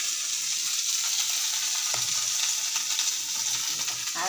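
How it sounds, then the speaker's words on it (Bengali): Chopped onion and garlic with turmeric and salt fry in a pan with a steady, loud sizzle throughout, and occasional stirring scrapes come through the hiss. "আমার পেঁয়াজ ভাজা হয়ে গেছে"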